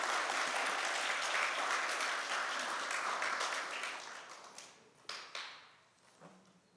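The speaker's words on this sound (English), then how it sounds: "Let's give them another clap for them." A church congregation claps for the children, a dense, steady round of applause that holds strong for about four seconds, then thins out and trails off into a few scattered, fading claps.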